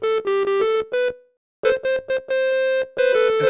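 Bright square-wave synth notes from a Nintendo Labo cardboard piano with a Switch, played as a short run of separate and held tones with a brief gap, loud and close with no voices.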